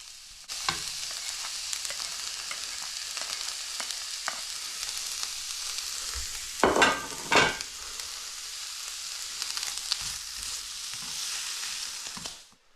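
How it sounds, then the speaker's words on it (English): Onion and garlic fry in a pan with a loud, continuous hiss, broken by a couple of scraping stirs near the middle, then settling back into an even sizzle until it fades out. "First in the pan was the onion and garlic."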